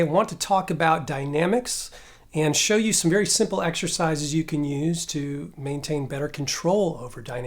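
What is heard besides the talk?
None of the usual background noises is heard.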